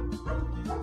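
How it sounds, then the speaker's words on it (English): A neighbor's Shiba Inu gives a couple of quick, yappy barks that sound moderately close and carry over a steady background. "Oh, the barking."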